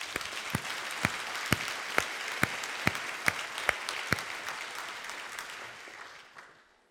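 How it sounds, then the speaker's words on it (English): A symposium audience at the 2017 OHDSI Symposium closing gives the organizers a sustained round of applause, steady crowd clapping with a few sharper claps standing out, gradually fading away at the end. "I want to give these folks a round of applause"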